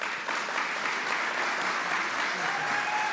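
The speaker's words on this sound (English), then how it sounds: "Please give another round of applause for Governor Hochul." Sustained applause for Governor Kathy Hochul at a New York State budget announcement, a steady, even wash of clapping from a crowd that fills the whole stretch without any talk.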